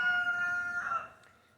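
A rooster crows among farmyard chickens, one drawn-out, high crowing call that fades away over about a second and a half, clear and fairly close.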